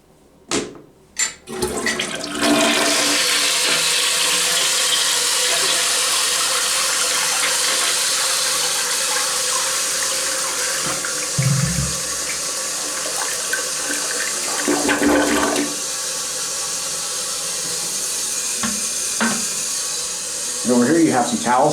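A hotel toilet in a Courtyard by Marriott room flushes loudly after a couple of sharp clicks, a strong sustained rush of water that slowly settles into a steady refill hiss with faint sounds of movement.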